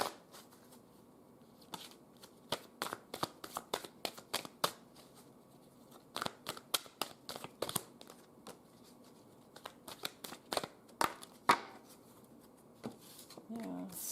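Tarot cards are shuffled and drawn in quick crisp bursts of riffling and snapping, close and fairly quiet, with short pauses between flurries.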